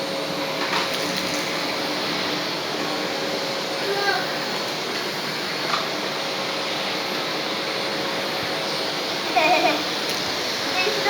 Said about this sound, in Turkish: Süpürge çok ağır tabi. İtemiyor çocukcağız.